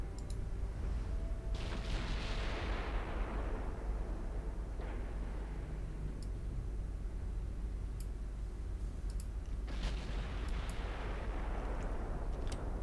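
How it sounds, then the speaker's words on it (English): Mark V 15-inch guns on the battleship Ramses firing in the naval game Ultimate Admiral Dreadnoughts: several deep booming salvos with long rumbling decay over a low steady background, with faint clicks. "The Ramses is already opened up with her Mark V 15-inch guns"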